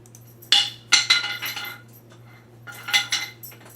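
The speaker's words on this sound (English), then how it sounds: "you're hearing in the background is Oreo throwing the antler around the floor, tile floor, and picking it up and then throwing it again" A dog tosses an antler across a tile floor, giving a series of hard clattering clinks and skittering knocks in two bursts, close and fairly loud.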